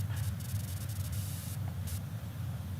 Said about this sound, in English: there's some books to spray with water